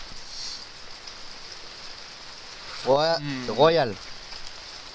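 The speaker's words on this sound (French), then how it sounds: "La pluie nous clochardise." Rain falls steadily outdoors as a constant hissing patter, and a person briefly speaks over it partway through.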